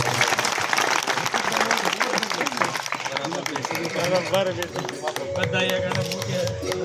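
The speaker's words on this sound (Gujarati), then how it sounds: "જોરદાર તાળીઓના ગડગડાટથી આ ક્ષણને વધારે છે" Audience applause at a political rally in Upleta, Porbandar, a dense roar of clapping that thins toward the end as voices and music-like tones rise beneath it.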